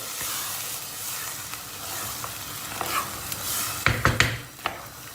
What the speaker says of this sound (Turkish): İlk etapta unumuzun açılması için iki su bardağı soğuk su ilave ediyorum